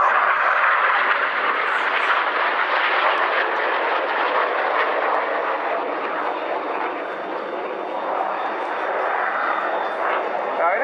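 Red Arrows jets fly the Vortex manoeuvre at the 2011 Waddington airshow, a broad, sustained engine roar that swells and fades slightly, with a commentator talking over it.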